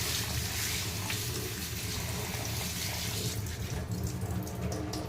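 Rice is washed by hand in a bowl with water, giving a continuous splashing, rushing wash with some sloshing and faint clinks toward the end. It is close and fairly loud, with no talk.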